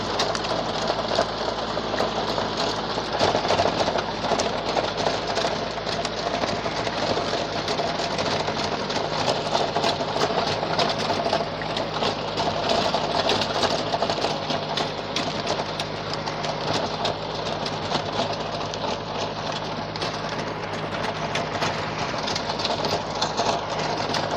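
A VST Shakti MT 180 18 hp tractor runs a rotavator through weeds in a farm field, its engine a continuous loud, even mechanical drone with a rapid rattling rhythm, no speech.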